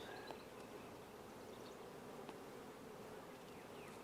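Honey bees buzz continuously around an open hive during a swarm-prevention inspection, a steady close hum with occasional individual bees passing by and no voices.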